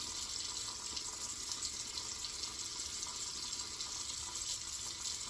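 Water runs steadily from a tap while Colgate shaving soap is worked into a lather for a wet shave, a constant close hiss with no talk over it.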